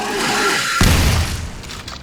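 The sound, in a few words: double-barrelled shotgun firing in a Doom 3D mod video game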